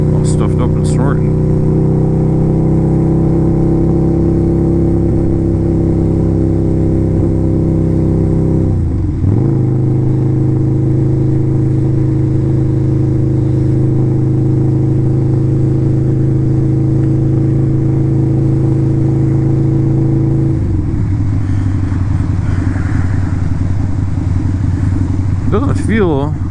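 A Harley motorcycle engine rumbles loud and close while the bike is ridden through a blizzard, holding a steady drone with two clear drops in pitch as gears shift.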